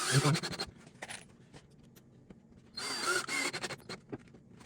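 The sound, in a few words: power drill driving screws into wooden stepladder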